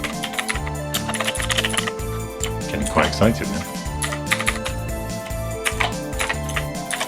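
Quick, uneven clatter of fingers typing on a keyboard of a 3D-printed Raspberry Pi retrocomputer, close and continuous, with someone speaking briefly over it.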